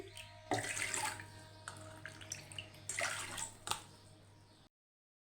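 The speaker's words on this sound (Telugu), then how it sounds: "వీటిని కుక్కర్లో వేసుకొని 2 కప్పుల నీళ్లు పోసి" Two cups of water splash and pour into a metal pressure cooker in a few bursts, close and moderately loud, with no talking.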